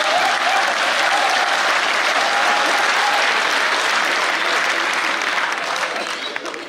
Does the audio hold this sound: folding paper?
no